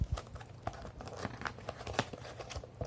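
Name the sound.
opening keyboard shipping box packaging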